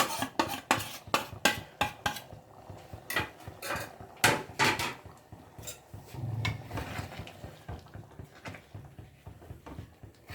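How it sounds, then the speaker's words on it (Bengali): A utensil scrapes and clinks against a pan while egg tarka is stirred with garam masala, a run of sharp metallic taps and clatters at first, then softer scraping and light knocks, all fairly quiet. "গরম মশলাটা দিয়ে একটু নেড়ে নিলাম।"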